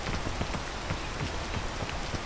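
Rain falls steadily in the video game PEAK, a dense, even patter of drops that fills the short stretch without other sounds.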